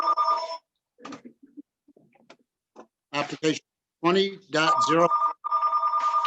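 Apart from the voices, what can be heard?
mobile phone ringing during a meeting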